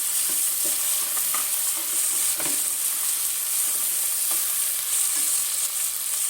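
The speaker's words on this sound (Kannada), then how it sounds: "ಟೊಮೊಟೊ ಚೆನ್ನಾಗಿ ಮೆತ್ತಗಾಗೋ ತನಕ ಹುರ್ಕೊಳ್ಳೋಣ." Tomatoes and long-cut beans fry in a pan with a constant loud sizzle, while a spoon scrapes and stirs in scattered clicks and knocks, close up with no voices.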